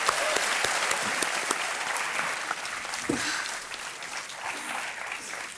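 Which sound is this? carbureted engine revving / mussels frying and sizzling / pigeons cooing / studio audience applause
studio audience applause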